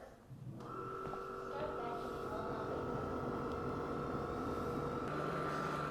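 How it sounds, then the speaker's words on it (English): A Deebot T30S robot vacuum washes its mop pads in the base station, giving a steady mechanical whir with a sustained tonal hum that starts after a brief quiet moment and runs on unbroken, close and moderately loud. "you can hear the mop pads being cleaned"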